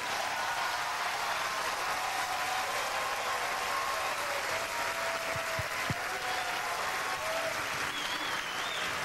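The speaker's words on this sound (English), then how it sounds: "Y'all give him a round of applause" A comedy club audience claps for a performer, a dense, steady roar of applause filling the room throughout, with faint voices and a few whoops mixed in.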